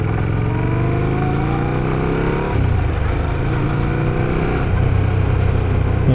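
A Fantic Caballero 700 scrambler with a Yamaha CP2 parallel-twin engine and uneven firing order runs loud and close, its exhaust droning through a revving rise, a dip and a renewed pull.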